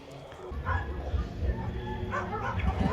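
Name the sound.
dog barking at a fair in France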